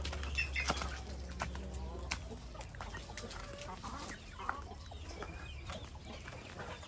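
Chickens cluck and a rooster calls in short bursts outdoors as they are fed purslane, with wing flaps and scattered rustling over a low background hum.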